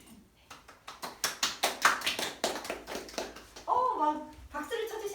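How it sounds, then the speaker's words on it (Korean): An audience applauds with fast, fairly loud hand claps that build and continue for several seconds. Near the end a voice speaks over the clapping. "막 박수를 쳐주시니까 힘이 나네요"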